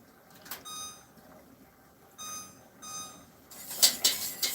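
A kitchen timer, set while strawberry pie filling boils on the stove, gives short clear electronic beeps in a few separated groups, close by, followed by a burst of rustling handling noise.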